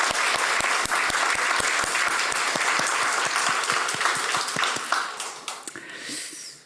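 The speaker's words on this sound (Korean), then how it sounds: "다시 한번 크게 박수 한번" A church congregation applauds the children during a Sunday service, steady clapping with a rhythmic beat of sharp taps, tapering off toward the end.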